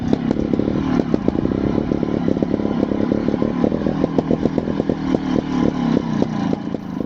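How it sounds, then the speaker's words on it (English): Scorpa 250 trials motorcycle ridden slowly over rough ground near a shore, its engine chattering steadily with frequent short throttle blips and clattering knocks throughout, close and fairly loud. "We'll just have a ride up here just to warm this bike up a bit really."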